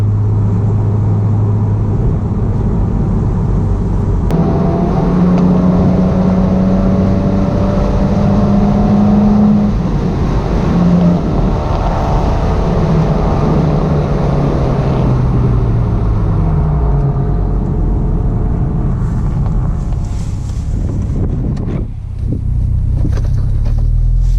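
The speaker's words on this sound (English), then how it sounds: "So that was just a quick POV drive of the Boxster." A Porsche 987 Boxster S drives along country roads in the Cotswolds at sunset, its engine droning steadily with rising and falling revs and gear changes, close and loud under continuous wind and road rumble, with no talking.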